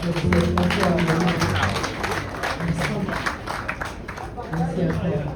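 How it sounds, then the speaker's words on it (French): Audience applause at a birthday party, broad sustained clapping from a crowd heard throughout, mixed with background music and voices in the room. "je voudrais vraiment que vous applaudissiez"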